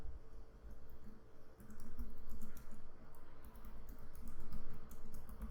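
Quiet, quick keystrokes patter on a computer keyboard in irregular bursts while text is written for a WordPress website, close and alone with no voices.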